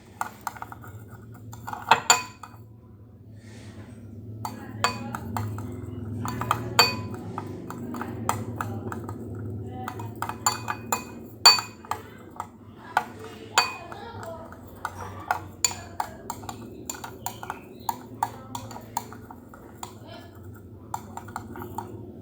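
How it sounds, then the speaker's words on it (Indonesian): A utensil stirs rice mixed with a few drops of betadine in a glass, making many light, irregular clinks and taps against the glass over a low background hum. "ambil beras, kemudian campurkan dengan betadine sebanyak beberapa tetes, kemudian aduk hingga rata"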